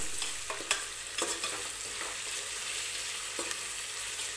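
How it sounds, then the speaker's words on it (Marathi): Onions frying in a pan for a mutton biryani cooked in a pressure cooker, with a steady close sizzle and several stirring scrapes of a spoon against the pan. No one speaks. "तर कांदा लवकर भाजावा त्यासाठी एक छोटीशी टीप आहे तर कांदा भाजताना काय करायचं"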